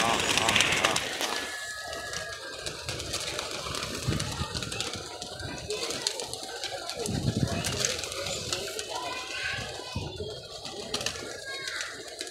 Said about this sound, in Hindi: वो काला चीना आया कबूतर, ये कबूतर भी आया